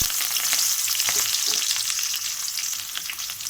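Mustard seeds, dried red chillies, onion and curry leaves fry in hot oil for a banana stem and lentil dish, a loud, dense, crackling sizzle that runs unbroken and close, easing slightly toward the end.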